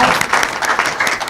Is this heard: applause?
yes